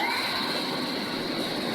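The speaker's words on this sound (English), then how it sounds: "let's test the air blower. Turn on this switch." Air blower on a 500 kg quick-freezing French fry production line running as a steady broadband whoosh with a constant high-pitched whine, loud and close, no voices.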